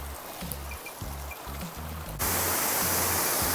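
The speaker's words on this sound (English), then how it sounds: "there's kind of a waterfall in the middle of the trail that drops steeply down below" Waterfall on a riverside hiking trail, dropping steeply below: steady rushing water with a broad hiss, which swells louder and closer partway through and holds constant.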